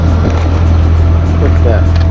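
A supercharged C5 Chevy Corvette on small 2-inch stock exhausts idles with a loud, steady, deep engine and exhaust rumble close by, while a person talks over it.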